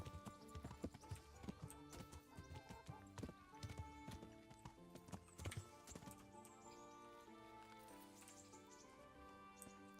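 Steady clip-clop of horse hooves over layered medieval game music in Kingdom Come: Deliverance, with occasional faint whinnies; busy and continuous throughout.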